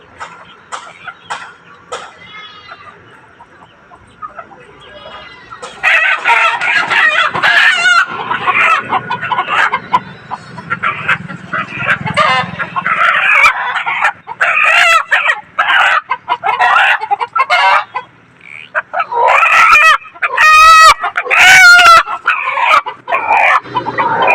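A rooster crows loudly several times at close range, mixed with hens clucking, after a quieter stretch of scattered clucks.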